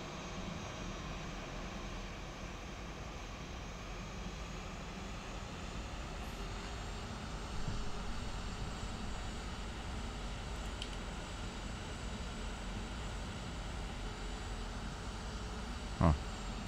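Airbus A320 airliner engines idling and rolling while taxiing to the runway in the Flight Factor flight simulator, a steady broad droning hum with a faint whine, continuous and even throughout, with a brief click near the end.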